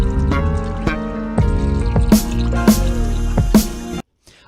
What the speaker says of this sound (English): the tea pouring or whatever that noise is in the background is a sample as well